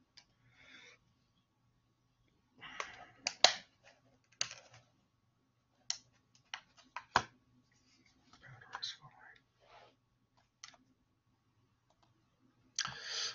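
Sparse clicks and taps on a computer keyboard whose battery is failing, arriving in short irregular bursts with pauses between, fairly close and quiet, with soft breathy voice-like sounds between some of the keystrokes.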